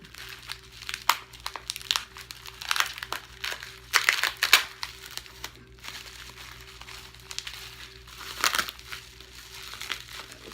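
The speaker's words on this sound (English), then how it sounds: "our last item is all wrapped in bubble wrap" Bubble wrap crinkles and crunches as an item from a subscription box, a lotion, is unwrapped, with irregular bursts of rustling close up and no talking.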